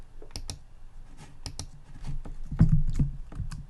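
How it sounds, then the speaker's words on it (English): Fingers type on a computer keyboard while entering text in the Photopea photo editor, producing a close, irregular patter of crisp key clicks in short bursts, with no talking. "So I'm going to type now."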